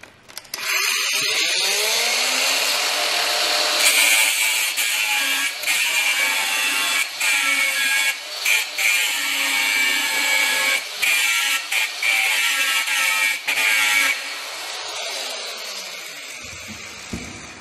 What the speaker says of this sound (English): Because I don't have the right tool to open the chain, I need to grind it in order to be able to